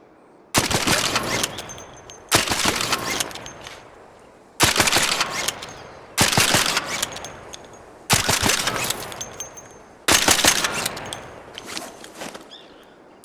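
Six separate bursts of suppressed automatic gunfire from a video game weapon fitted with the Silencer 2, each sharp volley trailing off into a long reverberant tail before the next, loud and with no talking.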